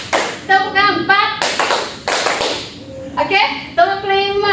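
Schoolchildren in a class clapping a counted pattern, bursts of claps alternating with sung or chanted children's voices, close and lively in a classroom.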